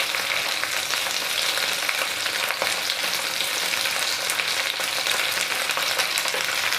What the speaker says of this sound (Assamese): প্ৰায় 3 মিনিটমান সময় এনেকৈ মই ভাজি ল'ম।